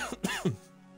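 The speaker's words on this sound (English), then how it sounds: "Please excuse the coughing." A couple of short, rough throat-clearing coughs close to the mic, then quiet.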